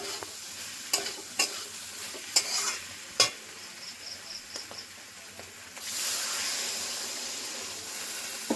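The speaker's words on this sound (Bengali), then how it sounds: "আলুর সঙ্গে পোস্তের সঙ্গে সুন্দর করে মিশিয়ে নেব।" Potatoes with poppy seed paste being stirred in a hot pan, a spoon scraping and knocking in sharp taps over a steady sizzle that swells louder toward the end, close by.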